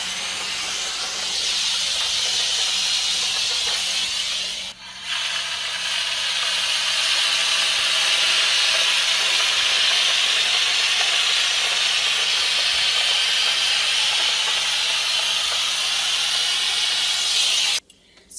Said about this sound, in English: The steam in the bonnet just does a fantastic job to just get those wrinkles out quickly and easily.